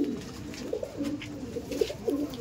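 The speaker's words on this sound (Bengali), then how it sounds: "এই দেখুন এটা ছিল মাদি পায়রা, আর এটা হচ্ছে নর পায়রা" Male and female pigeons coo softly at close range, with repeated low warbling coos in an uneven rhythm over a quiet background hum.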